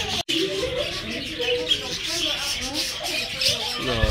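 Small birds chirp and tweet at a zoo in the United States, with short calls scattered through the clip under nearby people talking.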